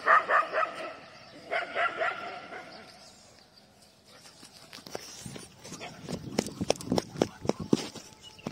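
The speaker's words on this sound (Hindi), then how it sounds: "डेजी जो है एक छोटे से पिल्ले के पीछे पड़ी हुई खेलने के लिए" A Labrador chasing a small puppy in play on a morning walk, with clustered barks and yips near the start, then scattered scuffling and bursts of activity close by.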